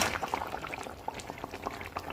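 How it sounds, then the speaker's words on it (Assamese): A Bengali-style fish curry with mustard and tomato simmering in a pan, soft irregular bubbling and popping close up, gentle and steady throughout with no talk. "এয়া লাহে লাহেকৈ বকবককৈ উতলিব ধৰিলে"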